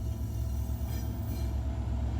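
A loaded iron-ore train in Mauritania rolls past with a steady low rumble and grinding of wagons on rails, a continuous loud, close mechanical roar with no talking.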